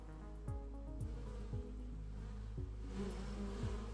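Bees buzz in the shop RPG video game Final Profit: a steady insect drone with short falling chirps repeating about every half second, with no voices.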